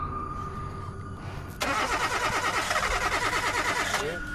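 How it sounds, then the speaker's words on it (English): A car's starter cranks in a rapid rhythmic churn for a few seconds without the engine catching, then cuts off, following quieter ambient background. "each time the woman attempts to start her car"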